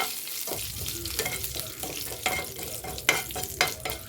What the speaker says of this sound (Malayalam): ഇനി കുറച്ച് കരിവേപ്പില വറുത്തെടുക്കുന്നുണ്ട്